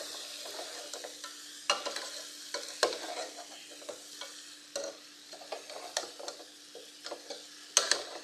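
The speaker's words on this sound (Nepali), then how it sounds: "अब आलु पनि हालेर मजाले यसलाई भर्नुपर्छ" Potatoes fry in a pan with already cooked meat, a soft steady sizzle broken by repeated scraping and stirring clatters from a utensil, close and fairly quiet.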